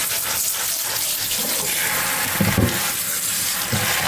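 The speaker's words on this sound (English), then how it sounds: "You want to rinse it really, really good." A tap runs steadily while red beans are rinsed in a kitchen, a loud, continuous hiss of splashing water with a few brief knocks and swishes as the beans are stirred.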